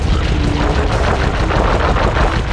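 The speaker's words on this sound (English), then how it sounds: "The idea is to ride through the swamp and take on the oncoming enemies using the cannon." Cannon vehicle firing at oncoming ghosts in a swamp level of the PS2 game Sly Cooper and the Thievius Raccoonus: dense, loud, continuous rapid bursts of cannon fire with booming impacts and no gaps.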